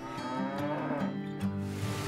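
Cattle moo loudly and close by, a deep, drawn-out lowing with overlapping calls from more than one animal.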